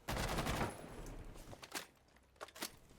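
Gunfire in Rainbow Six Siege on the Villa map: a loud opening burst of rapid shots, then several sharper, scattered cracks and clicks that fade to quieter intervals.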